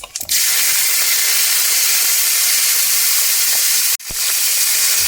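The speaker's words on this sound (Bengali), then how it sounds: "তেলের মধ্যে দিয়ে দেব মৌরি আর কালো জিরে, ফুলকপি" Fennel seeds, black cumin and cauliflower drop into hot oil and burst into a loud, close, hissing sizzle that runs steadily, briefly cuts out near the end, then resumes, with no voices.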